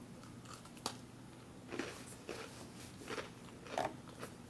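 Someone bites and chews a crunchy MRE cookie topped with peanut butter, giving several soft, close crunches spaced over a few seconds against a quiet background.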